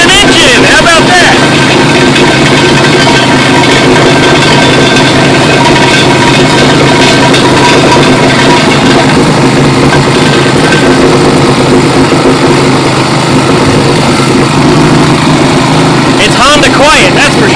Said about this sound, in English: Alright, we got us a running engine.